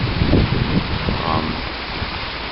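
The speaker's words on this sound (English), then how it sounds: "The water's pretty high up." Flood-high river water rushing past a raised levee during the Oneida flood of 2014, a steady broadband roar and hiss with nothing breaking it, heard close and continuous.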